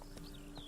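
Roach, a horse in The Witcher 3: Blood and Wine, clip-clops along in a few quick hoof beats, close and steady beneath a constant game background hum.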